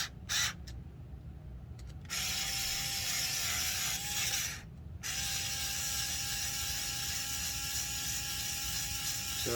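Long screws being driven all the way into an SCX10 II RC crawler chassis, giving a steady close mechanical whir with a faint ratcheting texture and brief pauses between runs.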